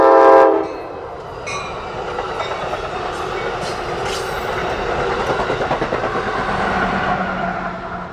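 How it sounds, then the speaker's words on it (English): An Amtrak Keystone train on the Keystone Corridor sounds its horn in a loud opening blast, then passes close by with a steady rumble and rhythmic clickety-clack of wheels over rail joints. "so they'll have to wait on a couple Keystone trains to pass."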